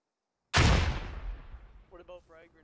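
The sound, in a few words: RPG explosions in the video game Squad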